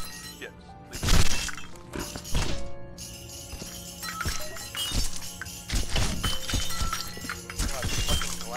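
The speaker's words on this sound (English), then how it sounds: "God, the fucking glass fell." Glass falls and shatters while someone cleans up after a party, a sharp crash followed by scattered clinks and rattling debris, with voices nearby.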